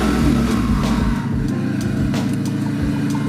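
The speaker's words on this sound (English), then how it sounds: "let's give it a little rev" A turbocharged Honda Civic with a D16Y8 engine runs loud and close during a basemap tune, its rough, throbbing exhaust note holding steady with slight rises in pitch, and no voices over it.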